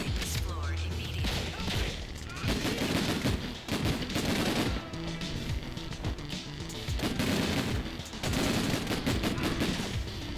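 Gunshots in the 2004 video game Breakdown, repeated sharp reports in clusters across the whole stretch over a constant loud game-noise backdrop, with a voice talking in places.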